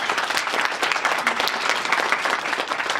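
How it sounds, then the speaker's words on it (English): Steady applause from a small convention panel audience, many hands clapping together for a few seconds at a moderate, even level. "A round of applause for them all."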